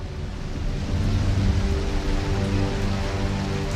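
Rain falls steadily and heavily, a dense constant hiss of drops on a surface that stays close and even for the whole stretch.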